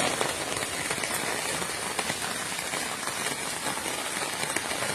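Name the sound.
heavy rain falling on a garden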